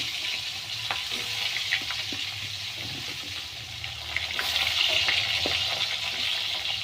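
Pointed gourd (potol) fries in hot oil seasoned with panch phoron and chopped chilli for a rohu fish curry, giving a steady close sizzle with scattered pops and occasional stirring scrapes throughout.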